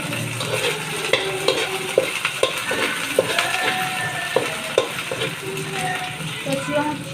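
Onion stir-fried in a pan for lomi: steady sizzling frying with repeated scraping stirs and clinks of a utensil against the pan, close by and continuous.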